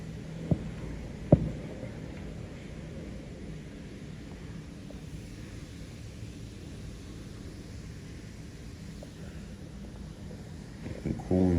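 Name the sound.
rooftop air conditioning unit running, humming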